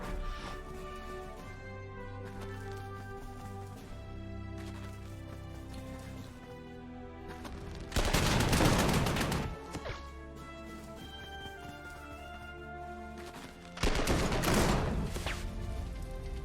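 Artillery fire in the wargame Panzer Corps, set in 1940: two loud crashing barrages of shells land several seconds apart over a quiet musical background.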